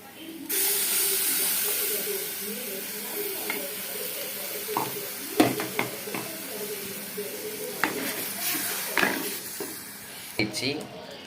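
Ground gravy paste sizzles in a hot pan while cooking a prawn dish, a steady broad hiss punctuated by scattered stirring scrapes and clicks, with faint voices in the background.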